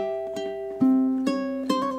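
Spooky melody plucked on a ukulele: a short run of single notes, some ringing on, at a moderate pace, close and clear with no voices.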